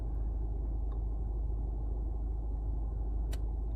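Low steady rumble of a car engine heard from inside the moving vehicle, a constant deep drone with a couple of faint small clicks and no talking.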